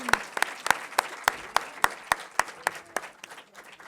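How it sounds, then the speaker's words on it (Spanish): Sparse clapping from an audience at a student-organized festival talk with actors: a dozen or so sharp, evenly spaced claps, fairly close and distinct rather than a dense crowd wash. "Un aplauso, por favor."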